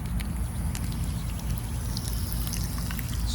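Water pours onto the soil around a freshly transplanted achachairu seedling, a steady close splashing trickle that lasts throughout.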